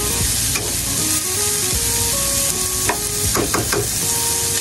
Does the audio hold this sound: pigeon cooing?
no